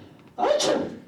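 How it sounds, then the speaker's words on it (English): A single loud sneeze bursts out after a brief quiet lead-in, close and sharp, trailing off within a second amid a comedic scene about characters with colds. "achoo!"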